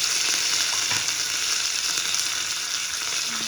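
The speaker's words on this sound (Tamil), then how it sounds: "போட்டு நல்லா வதக்கி விடு." Onions and curry leaves frying in a pan for a brinjal tomato kadayal, a loud, steady close-up sizzle with faint stirring and a few soft clicks, no speech.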